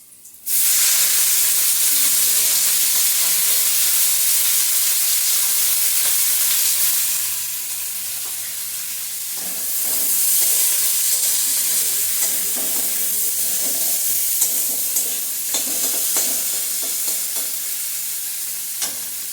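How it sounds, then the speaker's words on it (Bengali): Chopped onion drops into hot oil in a wok and sizzles loudly and continuously. The hiss eases slightly partway through as stirring adds soft scraping and clinks, with no talking. "এখন কড়াইতে দিয়ে দেব পেঁয়াজ কুচিটা।"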